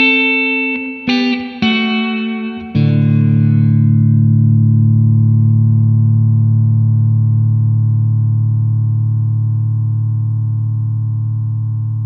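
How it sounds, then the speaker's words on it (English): A few strummed electric guitar chords ring out through a Blackstar Amped 2, then one chord is held frozen by its reverb freeze feature in a smooth, endless drone that barely fades. "the reverb has a bit of that button hold freezy thingy feature as well"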